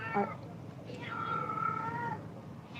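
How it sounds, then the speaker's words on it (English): A pet cat gives one drawn-out, wavering meow, faint and somewhat distant in a quiet indoor room, preceded by a brief chirp-like sound. "Oh, it's my cat. Can you hear my cat?"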